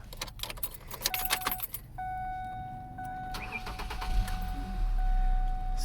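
Keys jingle briefly, then a 2011 Ford Ranger pickup truck engine cranks and starts, settling into a steady idle with a faint electronic chime tone overhead.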